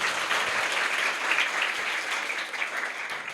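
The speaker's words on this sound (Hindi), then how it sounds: "जोरदार ताली बजाओ उसके लिए" Audience at a motivational speech giving a burst of dense, enthusiastic applause, steady close-up clapping that fills the whole moment with no talk over it.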